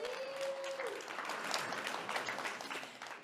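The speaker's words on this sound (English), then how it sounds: "Let's give Randy a big round of applause." Applause from an audience at a charity auction event, many hands clapping in a dense, even patter, fairly faint and distant, holding steady throughout.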